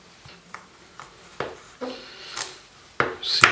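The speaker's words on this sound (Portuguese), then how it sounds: "Você vai cortar as suas nozes" Walnuts chopped with a knife on a board for cookie dough: about eight sharp, woody knocks at an uneven pace, each with a short crunchy rasp, close and fairly quiet, with no talking.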